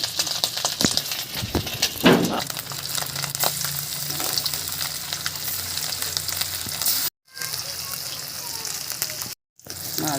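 Hilsa fish pieces fry in a pan with a loud, continuous crackling sizzle that stays close and dense, broken by two brief moments of silence.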